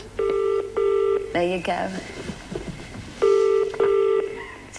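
British telephone ringing tone heard down the line during a local call, two double-burst rings separated by a pause, with someone speaking briefly between them.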